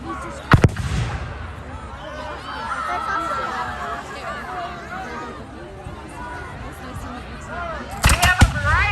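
Historical cannons, including small 3-pounders, fire at an 1812 battle reenactment with two loud sharp booms at the start and end. A crowd murmurs and people talk in between.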